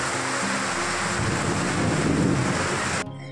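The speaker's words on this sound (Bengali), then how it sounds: "কি মুষলধারে বৃষ্টি হচ্ছে দেখেছো? বৃষ্টির আওয়াজ দেখেছো কীরকম এত জোরে হচ্ছে?" Heavy rain from a Kalbaishakhi (nor'wester) storm pours down in a dense, steady roar with a low rumble underneath, loud and close, then cuts off abruptly near the end.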